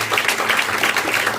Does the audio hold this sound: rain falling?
no